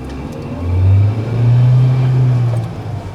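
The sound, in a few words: Mahindra Veero camper van engine revving in Power Plus mode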